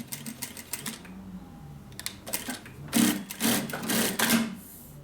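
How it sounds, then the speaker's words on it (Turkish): A new sewing machine runs under foot pedal control in short bursts of rapid stitching chatter with pauses between them, close and fairly loud, with some clicking in the quiet gaps. "Şimdi ayakla dikiyorum. Bu pedala bastığımızda bakın."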